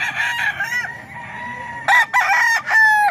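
A rooster crows loudly and close by, a long warbling call followed by a second burst of crowing.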